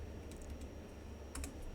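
Keys on a computer keyboard are tapped in a few quick, light, close clicks while entering Excel formulas, against a low, steady room hum.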